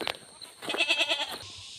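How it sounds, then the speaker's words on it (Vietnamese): A mountain goat in Hà Giang gives a close, loud, wavering bleat after a couple of short sounds, heard alone without talk. "Con mẹ này to phết đấy. Dê đẹp đấy."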